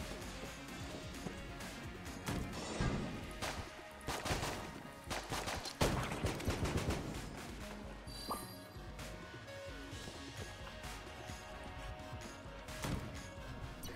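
Single-shot gunfire in the video game Enter the Gungeon: sharp scattered shots and impact crashes over a busy layer of game music and effects, bunched more densely toward the middle, moderately loud throughout.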